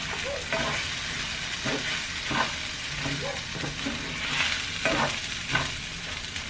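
Onion sizzles in a hot pan while being stirred, with a steady quiet frying hiss broken by repeated scraping strokes of the utensil.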